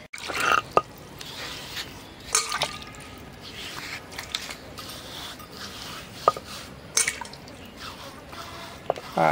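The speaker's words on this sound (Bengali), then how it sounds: "পাটা ধুয়ে লাও সুন্দর করে" Water drips and splashes as a stone grinding slab is washed, in faint, scattered drops and small splashes with quiet gaps between them.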